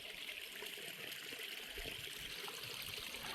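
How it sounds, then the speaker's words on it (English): Natural spring water gurgles out of a hillside and trickles down into a creek, a soft continuous babbling stream with no voices. "Just gurgling right out the side of the hill."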